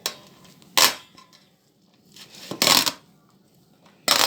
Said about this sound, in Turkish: Bunları hemen karıştırıyorum.